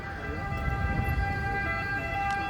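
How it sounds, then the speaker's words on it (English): An ambulance siren in Rome holds a steady wailing tone at moderate distance over city street traffic noise. "The famous ambulance"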